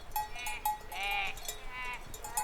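Sheep bleat in a sheepfold: several wavering, nasal calls come one after another at moderate distance over a low, steady background.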